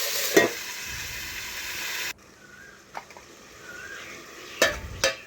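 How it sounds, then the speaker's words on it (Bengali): Vegetables stirred in a frying pan with fish heads cooking alongside: a loud sizzle for about two seconds, then abrupt quiet with a few faint clinks and scrapes of a spoon against the pan. "এখন আবার একটু নাড়াচাড়া করে আমি বেশ কিছুক্ষণের জন্য এটাকে ঢাকা দিয়ে ভেজে নেব।"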